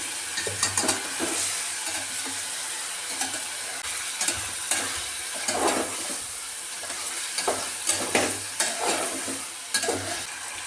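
Mutton being stirred and fried in a pan: a steady close sizzle with repeated scraping stirs that swell and fade at an uneven rhythm throughout, no voices.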